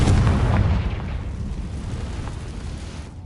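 Fiery Confringo blasting spell from Hogwarts Legacy: a loud, rumbling explosion booms at the start, then fades into a long, low crackling roar, with no voices over it.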